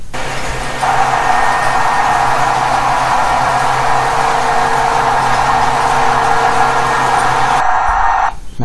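A motor-driven 20 kW and 10 kW generator pair runs at full speed, giving a loud, steady mechanical hum with a constant drone. It holds evenly for most of the time, then drops off near the end.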